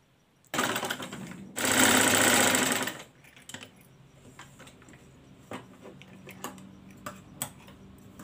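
A sewing machine stitches the neck strip of a raglan-sleeve baby frock in two close, rapid mechanical bursts, one short and one longer. Soft handling clicks and taps follow in the quiet afterward.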